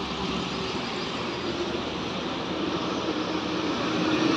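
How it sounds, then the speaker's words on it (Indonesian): An Armada Indah bus drives along a road in Aceh, a continuous broad engine and tyre roar that swells slightly louder toward the end as it nears, with no talking. "Coba kita lihat, ini bus apa? Armada Indah teman-teman."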